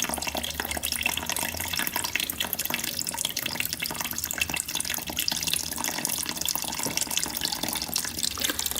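Fluid draining steadily from a Honda CRF250L dirt bike during engine repair, a continuous trickling, splashing stream heard up close with no pauses.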